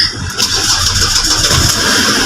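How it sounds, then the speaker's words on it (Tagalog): A 2010 Ford Everest engine cranks and catches after an ECU replacement, firing up close and loud and then settling into a rough, steady idle. "So yun guys, napaandar na natin yung Ford Everest."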